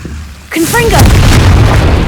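Confringo blasting curse in Hogwarts Legacy: a short whooshing magical cast followed by a loud, sustained booming burst that rumbles on to the end of the clip.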